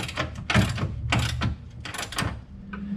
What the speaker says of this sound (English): you just got to take a 7/8 socket and wrench and tighten them up